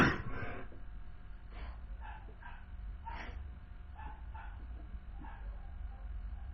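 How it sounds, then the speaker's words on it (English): Small dog barking and yipping in a home during a video call, a series of sharp separate yaps spread across several seconds over a low hum, fairly near. "Oh, yes, I must mute my dog."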